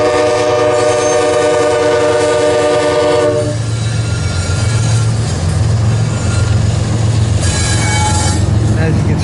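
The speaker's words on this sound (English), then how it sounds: "there is the southbound coal drag right there, making his way south." A southbound coal freight train, a long coal drag in Oakland, Nebraska, passes close by. A horn blast ends after a few seconds, then a continuous heavy rumble and rattle of cars follows, with some wheel squeal.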